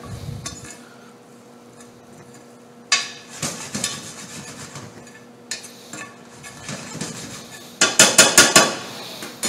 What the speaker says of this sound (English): Some smoked paprika. Some cumin. We're going to stir that together.